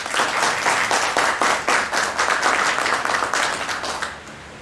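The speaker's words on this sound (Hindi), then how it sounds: "जोरदार तालियां बजाइए।" Loud, sustained applause fills the hall at a cultural evening of music at IRICEN in Pune as a guest is welcomed, many hands clapping close and steady for about four seconds before fading.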